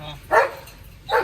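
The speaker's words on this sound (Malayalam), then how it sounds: "നായ ഉണ്ട് സൂക്ഷിക്കാ, ഒരു നായ ഇറങ്ങിയിരുന്നു" Dog on a farm gives two loud, close barks about a second apart, with quieter background noise in between.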